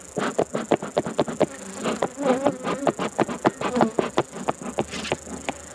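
Honey bees swarm around an opened hive during a honey harvest, a close, steady buzz broken by rapid, rhythmic pulses of wingbeats and movement that carry on throughout.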